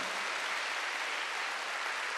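A church congregation at a Wednesday worship service applauds together, a dense, even wash of clapping that carries on steadily without any pause or voices.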